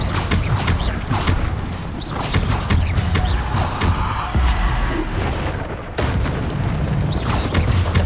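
Repeated heavy explosions from the Bombarda spell in the video game Hogwarts Legacy, loud crashing booms one after another with rumbling debris and clattering between blasts.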